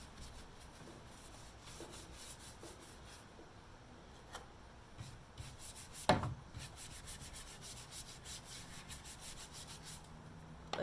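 Soft, close rubbing as Annie Sloan dark wax is worked into painted furniture, with uneven strokes and one sharper knock or scrape partway through, and no voices.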